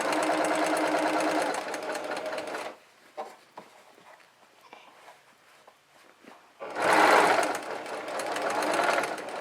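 A sewing machine backstitches a fabric mask, running in a loud rapid whir, stopping for a few seconds of quiet handling clicks, then racing again.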